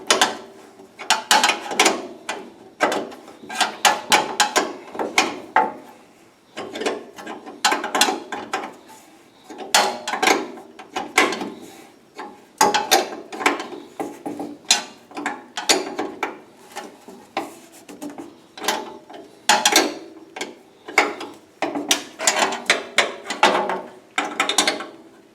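A ratchet tightens a fitting on a Powerhorse extended run time fuel kit, sounding as close, rapid clicking bursts repeated many times with short pauses between strokes.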